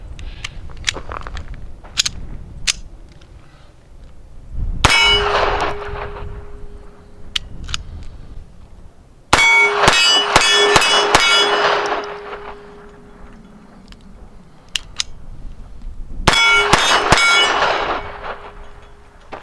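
Lorcin .22 semiauto pistol firing Remington rounds outdoors, three loud sharp reports spaced several seconds apart, each ringing out with a metallic tail, with small clicks and handling noises between shots.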